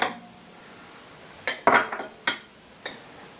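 Dry baking powder and salt being mixed together in a bowl with a utensil, giving a few separate clinks and taps against the bowl, moderately close.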